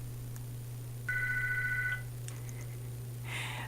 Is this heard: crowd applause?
no